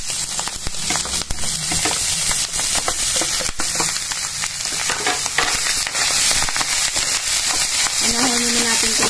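Chicken, hot dog and vegetables fry in a pan with a loud, steady sizzle, broken by scraping stirs and clicks of a utensil against the pan, close up.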